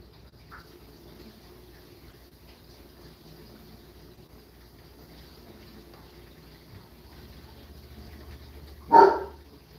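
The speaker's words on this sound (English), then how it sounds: "My dog is noisy." A dog lets out a single sharp bark near the end, loud and close, after a long stretch of quiet indoor background.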